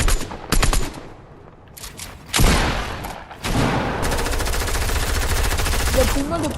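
Loud video game gunfire from a shotgun and an SMG in close rapid bursts, with sustained automatic fire through the second half and brief quieter gaps between volleys.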